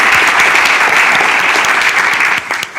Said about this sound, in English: Feel free to interrupt with applause anytime like that.